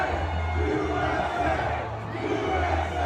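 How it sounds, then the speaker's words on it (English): A stadium crowd at a Steelers–Jets NFL game roars steadily in a dense, continuous wash of cheering and chatter, loud and sustained throughout with a slight dip midway. "and the crowd goes wild"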